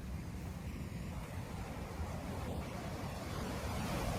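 Wind and ocean waves washing onto a shore early in the morning, a steady low rumbling roar with constant gusty noise and no voices.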